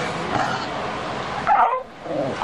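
A puppy gives brief whimpers and high yips, close and fairly loud, over a constant noisy background.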